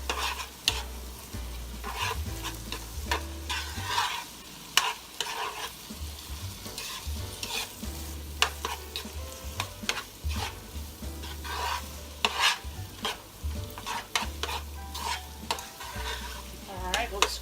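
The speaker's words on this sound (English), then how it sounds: "Starting to scramble, so I'm going to go ahead and just stir it in with everything else." Eggs scrambling in a pan of one-pot meal are stirred through in quick, repeated scraping strokes over a constant sizzle, close and fairly loud, with no voices.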